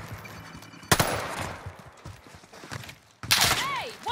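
Gunfire in a video game on the Caldera map, with two loud bursts of shots, one near the start and one after a brief silence. Other game noise fills the gaps between them.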